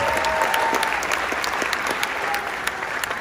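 An audience applauds a senior at a high school band event, with steady, dense clapping that holds loud and even from start to finish.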